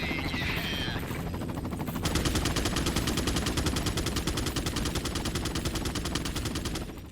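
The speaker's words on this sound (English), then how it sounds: "I heard him shooting" Rapid gunfire from the video game Resident Evil 4, a dense continuous burst of shots running for several seconds, loud and close with no talk over it.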